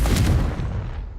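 A Confringo fire-spell blast in Hogwarts Legacy, played on PC, bursts as one loud, close, booming impact that rolls into a long, gradually fading rumble with no talk over it.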